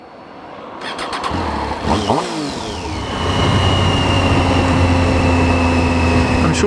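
A motorbike engine fires up and revs as the rider sets off, rising from a few sharp throttle blips into a steady, loud, close drone that climbs through the gears.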